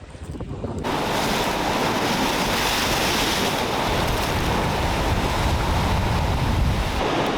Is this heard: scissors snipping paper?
no